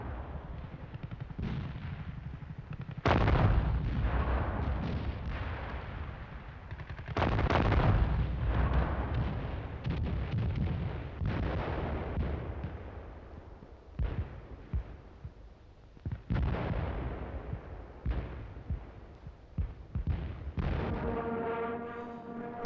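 An archival war documentary captures a city under artillery bombardment, with heavy booming blasts and rolling gunfire in repeated loud bursts, some clustered and some spaced apart, with a rumbling low end.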